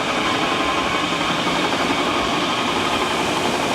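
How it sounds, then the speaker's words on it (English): Loud, constant mechanical roar with a grinding, rumbling texture from drilling machinery running nonstop nearby. "you know what they're doing? God, they're drilling."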